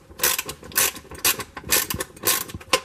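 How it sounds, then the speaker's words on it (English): Small T20 Torx screws being backed out of the plastic housing of a Craftsman leaf blower, a close run of quick ratcheting clicks and scraping bursts coming in several uneven spurts. "I'm gonna remove all of these T20 Torx screws"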